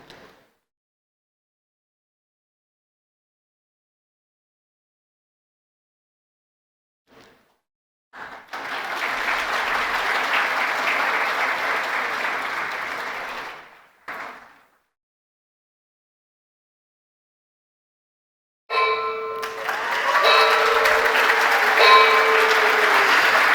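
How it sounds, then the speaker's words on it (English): At the opening ceremony of a global policy forum, audience applause arrives in two bursts: a steady round of clapping of several seconds after a long silence, then another sustained round after a short pause, with a tonal sound at its start. "Please, a big round of applause for Licenciado Douglas Pablo Rodriguez and V"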